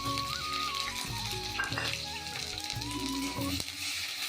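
Steady sizzling of cumin, nigella seeds and chopped onion in hot oil in a kadai with occasional stirring, close and continuous, while a voice speaks faintly over it.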